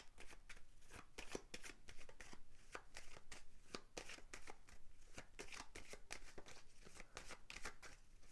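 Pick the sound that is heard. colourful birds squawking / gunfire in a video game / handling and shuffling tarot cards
handling and shuffling tarot cards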